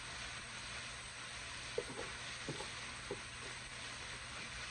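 Cabbage, onion and garlic cook slowly in a pan, a faint steady sizzle with a few soft clicks and taps over it, no one speaking.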